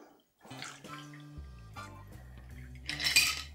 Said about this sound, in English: And then top with soda.